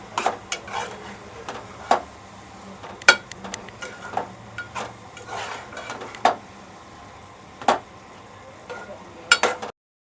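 Onion and tomato sautéing in a pan for prawn pulao, with sporadic scrapes and clinks of a spoon stirring against the metal over a faint sizzle, each stroke distinct and close.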